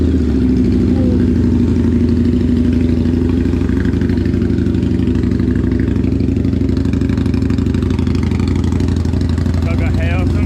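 A custom motorcycle engine runs steadily close by, a continuous low rumble throughout with no pauses.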